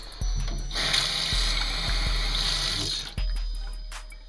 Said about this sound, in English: Fill up a little cup of water